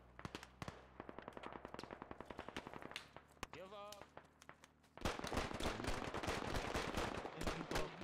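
Rapid automatic gunfire in the tactical shooter Squad, sharp bursts of shots in quick succession, then a denser, louder barrage of overlapping fire, with voices talking over the battle.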